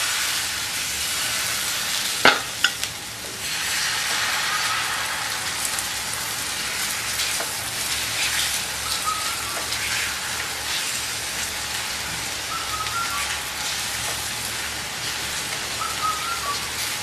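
Vegetable omelette batter sizzles steadily on a hot oiled stone griddle, a dense, continuous hiss like rain that carries on evenly with a brief clack near the start and no talking.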